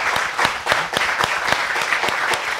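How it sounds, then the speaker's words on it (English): Audience applause for speakers at a cultural mobility forum, a moderate crowd clapping with distinct individual claps audible as a fairly regular rhythm, continuous and close, no voices. "I will now give a round of applause to both our speakers."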